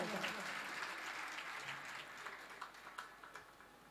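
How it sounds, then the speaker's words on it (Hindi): An audience at a religious discourse breaks into applause, a dense burst of clapping that stays steady and then thins into scattered claps as it dies away, with a voice faintly underneath. "एक बार इसके लिए तालियां बजाओ।"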